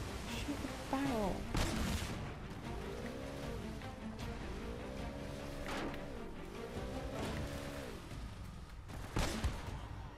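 Scattered gunshots in Uncharted: Drake's Fortune, fired at a barrel: a few sharp isolated cracks spaced seconds apart over a steady background of game noise, with a person talking in between.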